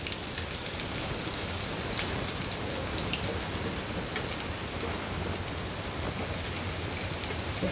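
Finely chopped small onion sizzles in hot oil in a wok for masala Maggi, a dense, even crackle like heavy rain that stays close and steady throughout.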